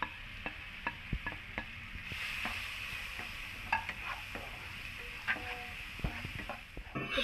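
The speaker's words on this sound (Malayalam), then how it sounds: "ഇതിലേക്ക് പഴം കൂടി ചേർത്ത് നന്നായി വാട്ടിയെടുക്കാം." Ripe banana sautéing in a pan gives a soft, steady sizzle, broken by repeated sharp clicks and scrapes of a spoon stirring against the metal, close and fairly quiet, with no talking.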